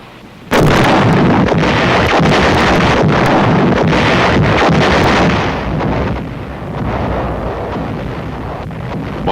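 Close World War II artillery fire and explosions on a German defensive ridge, a loud sudden blast followed by sustained rumbling and crackling impacts mixed with heavy wind-like roar, no voices.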